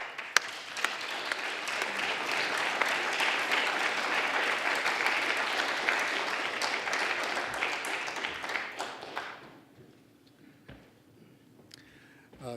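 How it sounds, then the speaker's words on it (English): A lecture audience at a maritime history talk welcomes a speaker with a steady wash of many hands clapping for about nine seconds, then the applause thins to a few scattered claps and fades out. "let us give a warm round of applause and a welcome to Michael Pappalardo"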